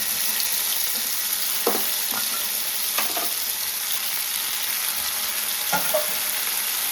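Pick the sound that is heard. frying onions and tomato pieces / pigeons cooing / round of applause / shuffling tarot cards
frying onions and tomato pieces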